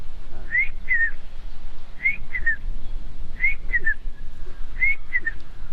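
A person whistles an imitation of the brain fever bird: short three-note phrases, rising and repeated four times at steady intervals, clear over a quiet background hum.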